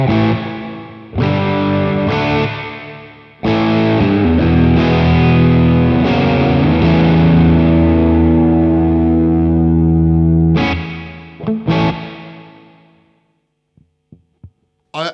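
Electric guitar played through a Sonicake Twiggy Blues multi-effects pedal with reverb and slapback echo, loud sustained chords with rhythmic doubled repeats and a warm driven tone, fading out into a few soft plucked notes at the end.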